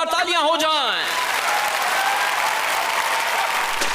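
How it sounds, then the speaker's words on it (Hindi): A crowd claps loudly and continuously for cartoon performers in a Hindi-dubbed Kick Buttowski episode, right after a short stretch of a voice speaking at the start. "एक बार जोरदार तालियां हो जाएं"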